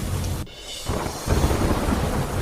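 Heavy monsoon rain pours down in Chhatrasa village near Dhoraji, Gujarat, a dense steady roar of downpour with deep rolling thunder rumbling beneath it.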